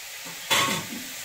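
A spoon stirs chicken curry in a pan, one short scraping swish close up that rises sharply and then fades over a faint sizzle.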